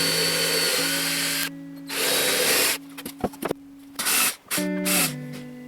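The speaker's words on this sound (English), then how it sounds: "I drilled and countersunk 2 holes for fixing screws" Power drill boring and countersinking screw holes in a wooden bird table platform; loud close whining bursts of drilling, separated by short pauses and stop-start revs, with no voices.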